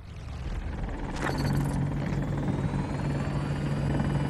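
A helicopter in the video game Battlefield 2042 gives a loud, continuous rotor chop and engine drone close by, with a brief mechanical clatter partway through.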